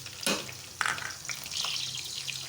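Chopped small onion hits 3 to 4 tablespoons of hot oil for zeera tarka rice, bursting into a loud sizzle followed by a steady, crackling fry close by.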